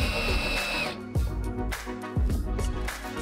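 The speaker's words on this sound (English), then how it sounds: "Secure them using the self-drilling screws." A power drill drives self-drilling screws through a stormwater pit filter box into a bracket, giving repeated close, loud whining bursts that rise and fall in pitch with short pauses between screws.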